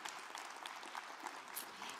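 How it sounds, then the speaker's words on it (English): A conference audience applauds its panel at the closing of an interoperability event, a quiet, even wash of clapping that sounds distant and holds steady throughout. "So I would like to ask you to applause our panel for the great"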